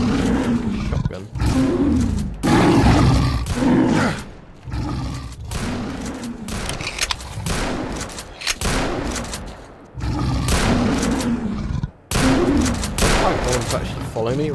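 Shotgun gunfire and a roaring pseudo-giant mutant in the shooter game Call of Chernobyl, loud bursts of blasts and growls layered together in dense, near sections broken by short gaps.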